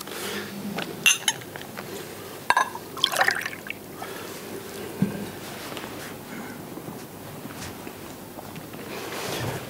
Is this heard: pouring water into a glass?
yes